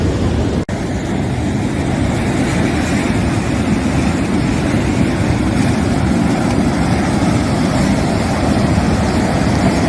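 Rough sea surf roars continuously against the shore at Karataş, Adana, as a loud, unbroken wash of breaking waves and wind with no talking.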